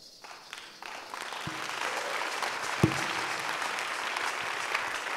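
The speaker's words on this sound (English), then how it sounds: "Sit down and give the Lord a clap offering." A church congregation breaks into applause, a broad wash of many hands clapping at moderate distance, with a couple of sharp knocks standing out early on.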